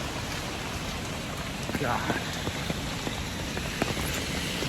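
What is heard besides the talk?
heavy rain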